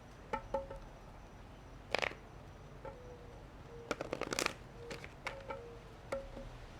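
Tarot cards being shuffled for a reading, quiet scattered riffles and soft flicks in short bursts with pauses between, faint and close in a quiet room.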